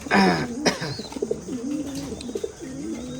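Racing pigeons in a loft give repeated soft, throaty coos, close and clear, with a sharp flutter or scuffle near the start and a faint chirp among them.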